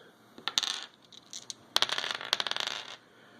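A handful of dice rattle and clatter across a table in a tabletop game, landing in two quick bursts of sharp, close clicks and tumbling taps.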